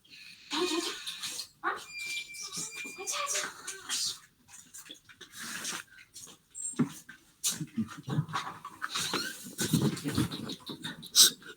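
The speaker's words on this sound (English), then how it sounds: "my dog is around" A pet dog whimpers and whines in short soft bursts nearby, faint and intermittent, with pants and breaths between cries and a voice talking over parts of it.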